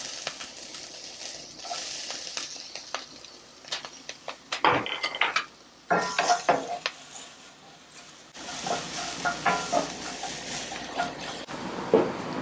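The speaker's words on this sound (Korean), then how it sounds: "여기다가 오일을 좀 잠깐 두르시고, 고추를 볶을 때는 빨간색보다는 파란색을 먼저 볶아주세요" Green chili peppers stir-fry in oil in a pan while japchae is made. A soft, steady sizzle runs underneath, broken by scraping and clinking utensil strokes, and it grows louder and fuller after the new peppers hit the pan.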